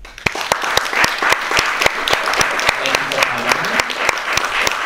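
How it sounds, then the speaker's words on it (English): An audience at the close of a panel discussion on queer resistance breaks into applause, a dense run of steady, close claps with some voices mixed in. "Let's give a round of applause."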